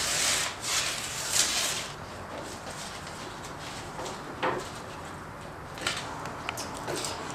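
A paper pattern is peeled away from a wooden prop gunblade, giving a continuous close rubbing, tearing rasp with a few sharper scrapes and ripping accents, steady and fairly loud, with no speech.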